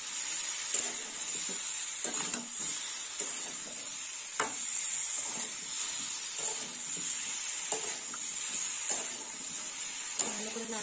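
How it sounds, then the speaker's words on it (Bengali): Karela sukto being cooked: vegetables fry in a pan with turmeric powder and salt while being stirred. A steady sizzle and hiss runs throughout, broken by repeated scraping stir strokes at close range. "ভালো করে নাড়াচাড়া করে নিই।"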